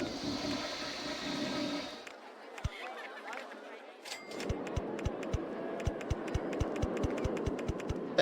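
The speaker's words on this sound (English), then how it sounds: "they could replace the toilet flushing sound with a cash register sound" A toilet flushes in the video game RollerCoaster Tycoon 2, a brief watery rush. After a short lull, a fast, evenly spaced run of sharp clicks follows over a low background murmur.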